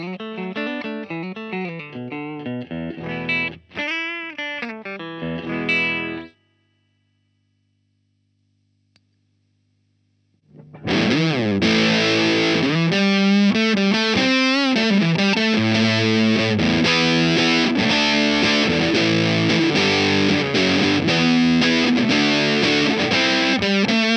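Strat-type electric guitar, an S Classic, played straight into a Marshall JMP 2203 amp on the low input set fairly clean; chords and notes ring out loud and alone, stop for a few seconds of silence, then resume steadily.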